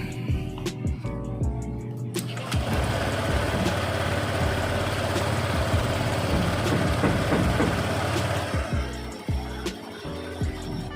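A car engine idles steadily after an oil change with racing oil, a low continuous rumble with a few mechanical clicks, loud and close throughout.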